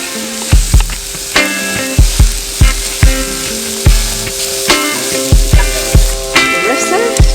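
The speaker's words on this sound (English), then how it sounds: "So now I'm going to add the cumin, ground cumin, and harissa and tomato paste and the garlic." Ground cumin, harissa, tomato paste and garlic go into a hot pan in a field kitchen, a loud sizzle broken by a regular series of sharp knocks and scrapes from a utensil against the pan.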